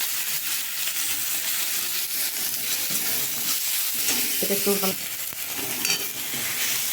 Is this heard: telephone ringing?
no